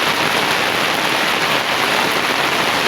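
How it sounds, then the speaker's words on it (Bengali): Heavy rain pours down in a loud, dense, unbroken hiss, with no voices or other sounds. "দেখেন খুব জোরে বৃষ্টি হচ্ছে"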